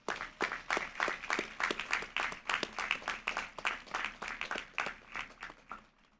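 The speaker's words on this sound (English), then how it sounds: "Let's give them a round of applause." Audience applause at a 2022 community college commencement ceremony: a steady stream of distinct, fairly sparse hand claps at moderate volume that keeps going and softens slightly toward the end, with no talk over it.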